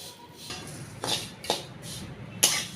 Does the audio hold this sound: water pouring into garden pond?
no